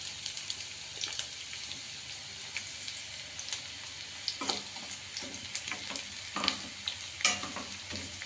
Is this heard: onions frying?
yes